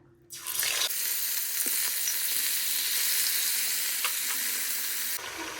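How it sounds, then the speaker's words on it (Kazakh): Meat fries in hot oil with a loud, continuous sizzle and a few faint pops, close by and with no talking. "жаңа картоп қуырып алған майға етті де екі бетін қызартып қуырып аламыз, қатты отта"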